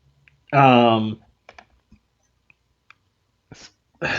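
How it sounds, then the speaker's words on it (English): A single loud, drawn-out burp close to the microphone, followed by quiet clicks and a brief voice. "Okay, I burped."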